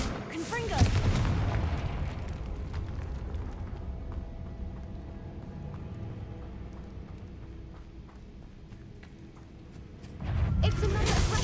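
The Confringo fire blast spell from Hogwarts Legacy erupts as a short, booming burst near the start, fades into a quiet, low rumbling background, then another loud blast hits near the end.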